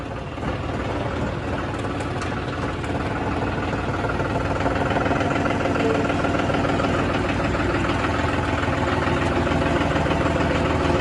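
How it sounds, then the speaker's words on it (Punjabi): A John Deere 5405 tractor with a 63 horsepower engine idles nearby in a steady, even diesel rumble and clatter that runs unchanged throughout, with no talk. "ਚਲੋ ਮਿੱਤਰੋ ਟਰੈਕਟਰ ਕੱਢਦੇ ਆਂ ਬਾਹਰ"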